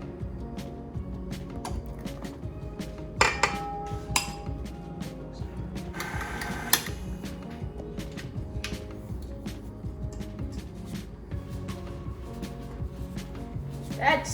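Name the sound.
mixing flour into brownie batter in a bowl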